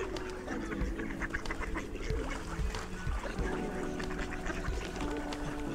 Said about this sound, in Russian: Ну а уток-то, а уток сколько? Они же так кря-кря-кряш.